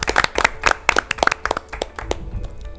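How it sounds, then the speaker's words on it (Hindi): A small group claps for team A on a quiz show, a short burst of quick, uneven hand claps that thins out near the end. "ताली बजनी चाहिए टीम ए के लिए"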